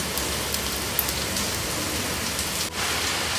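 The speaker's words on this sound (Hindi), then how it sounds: "बाहर इतनी तेज बारिश हो रही है" Heavy rain falls outside in a steady, dense hiss that holds at the same loudness throughout, close and continuous with no talking.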